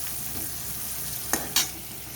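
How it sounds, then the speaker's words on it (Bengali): Onion and spice paste frying in a pan, a soft steady sizzle with two sharp scraping stir strokes near the end, fairly quiet and close, with no speech. "এই পেঁয়াজটাকে আমি হালকাভাবে ভেজে নেব।"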